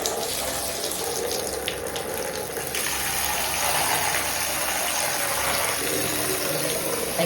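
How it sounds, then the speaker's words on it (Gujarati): A water tap runs in a strong, steady gush for several seconds, close and continuous, as a sink or tub fills for washing clothes. "પાણી ચાલુ."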